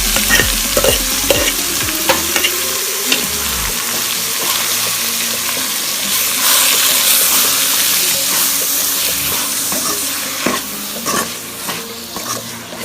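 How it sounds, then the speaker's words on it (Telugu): Garlic, dried red chillies and cumin frying together in a pan for a Telugu wild-meat curry, with continuous sizzling, steady stirring scrapes and occasional clinks, close and fairly loud with no talk. "వెల్లుల్లి, ఎండుమిర్చి, జీలకర్ర మొత్తం కలిపి వేపేసుకోండి."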